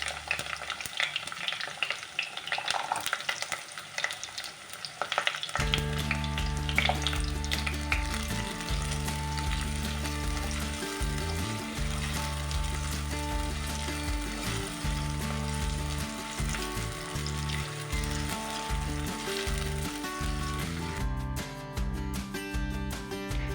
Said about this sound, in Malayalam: എണ്ണ ചൂടായി വന്നിട്ടുണ്ട് ഇനി നമുക്കിതിലേക്ക് കടുക് ഇട്ട് കൊടുക്കാം കടുക് ഒന്ന് പൊട്ടി വരുമ്പോഴത്തേനും നമ്മളിതിലേക്ക് നമ്മൾ അരിഞ്ഞ് വെച്ചേക്കുന്ന സവാള ചേർത്ത് കൊടുക്കുന്നുണ്ട്